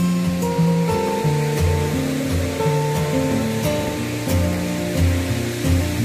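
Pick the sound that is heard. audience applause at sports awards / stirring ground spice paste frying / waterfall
waterfall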